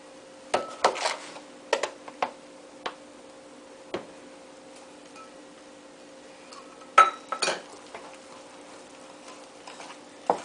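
A whisk stirs coffee cake batter in a bowl with scattered sharp clinks and taps of metal on the bowl's side, irregular and close, separated by quiet gaps.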